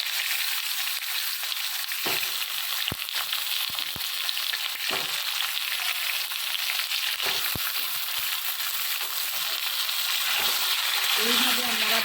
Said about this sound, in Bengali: বেগুনটা আমি ভেজে নেব